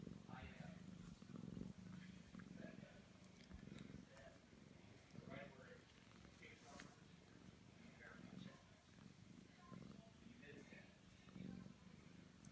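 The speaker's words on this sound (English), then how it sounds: "You are still purring." A cat purring close by, a soft, steady low rumble that pulses rhythmically and continuously at a quiet level.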